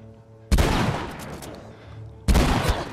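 A shotgun fires twice in The Last of Us Remastered, each blast loud and close with a heavy boom that trails off. The two shots come about two seconds apart.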